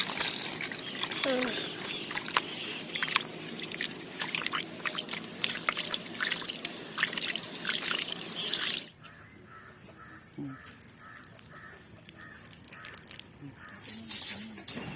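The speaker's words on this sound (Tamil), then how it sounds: "நம்ம அரிசியை வந்து நம்ம நல்லா தண்ணி ஊற்றி கழுவிக்கலாம்" Water poured over rice being washed in a bowl for biryani, a trickling, splashing pour that runs for several seconds and then gives way to quieter dribbles and drips, with crows cawing in the background.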